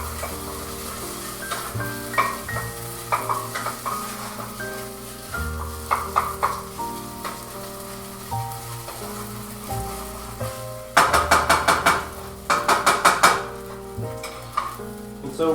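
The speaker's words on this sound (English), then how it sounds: "you want to keep like mashing it up and stirring it" Tomato paste caramelizes in a pan, a spoon mashing and stirring it against the metal in scattered scrapes and clinks, with brief louder bursts of clatter over a soft sizzle.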